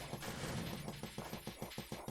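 A rapid-fire weapon in the Adventure Builder video game blasts away in a steady rhythm of about eight quick shots a second, faint and mechanical, with no talk over it.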